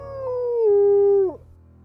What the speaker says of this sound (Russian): Я опять слышу собачий лай и вой.